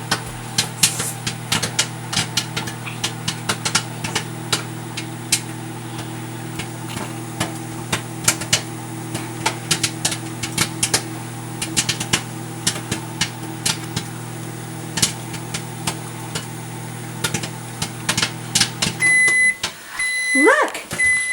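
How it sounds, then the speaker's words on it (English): Popcorn kernels burst inside a running microwave oven as a steady stream of sharp pops over the oven's constant hum, until the hum stops near the end and a few beeps sound. "the kernels are heating up and busting open and popping."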